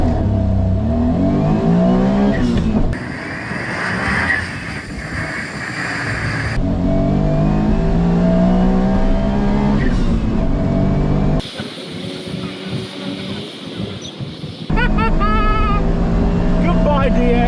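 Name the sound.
Autozam AZ1 drag racing against Citroen DS at Santa Pod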